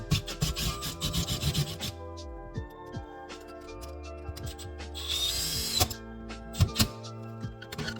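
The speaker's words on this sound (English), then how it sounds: "Now we're going to screw the mounting bracket to the new box." A screw is driven to fasten a mounting bracket onto a new light fixture box, producing close, rasping metallic grinding and rubbing that comes in uneven bursts with small clicks between.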